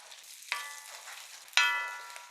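Mustard seeds, ginger, garlic and green chillies fry in hot sesame oil with a quiet hiss, and two sharp crackling bursts pop up about a second apart.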